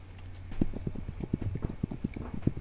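Horse hooves clip-clop in a steady rhythm through a colonial frontier video game, the footfalls close and moderately loud over a low ambient hum, with no talk.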